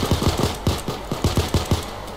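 Rapid bursts of automatic gunfire from a heist shootout in PAYDAY 2, close and loud, firing in a steady stuttering rhythm with short gaps between volleys.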